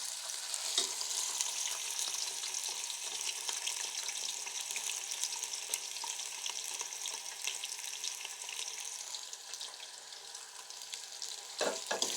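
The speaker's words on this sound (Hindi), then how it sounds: "घी हमारा गर्म होने वाला है, तो अभी हमने इसमें स्लाइस किया हुआ प्याज डाल देंगे" Sliced onions fry in hot ghee, giving a steady, dense sizzle that holds throughout, with a few brief clinks and a louder scraping stir near the end.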